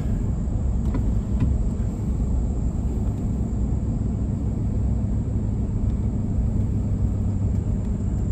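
A car driving toward a trail area at Medoc Mountain State Park, heard from inside as a loud, steady low engine-and-road rumble with a faint high whine running throughout.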